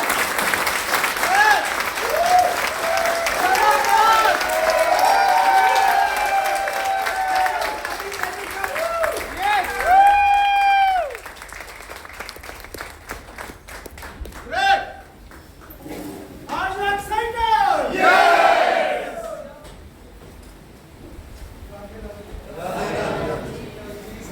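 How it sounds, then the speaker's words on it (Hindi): Loud applause fills a hall at a company welcome event, with voices calling and whooping over the clapping in waves before it thins out and a speaker's voice emerges. "जोरदार तालियों के साथ"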